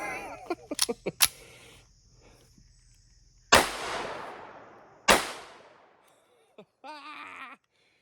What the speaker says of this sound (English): our target is very patiently waiting to be shot while we fiddle with our terrible old gun